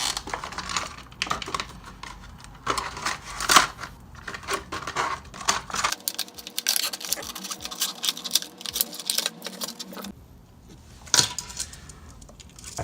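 A fishing lure package being unboxed by hand, with rustling plastic, crinkling and sharp clicking and snipping handling sounds in irregular bursts, close up.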